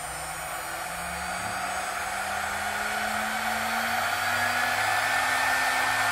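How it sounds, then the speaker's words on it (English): CNC router spindle on a Onefinity machine with a Masso controller, spinning up to 12,000 RPM: a steady loud whine and airy rush with a faint low tone gliding slowly upward as it gains speed, alone without talk. "you can hear the spindle fire up."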